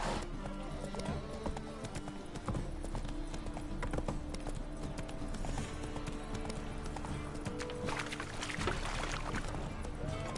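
Roach, the horse in the video game The Witcher 3, gallops with quick, steady clip-clopping hoofbeats that run throughout alongside soft ambient game sound.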